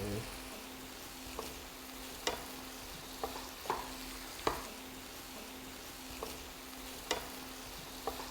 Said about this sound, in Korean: 양념이 재료들에 골고루 묻을 수 있도록 잘 볶아주세요.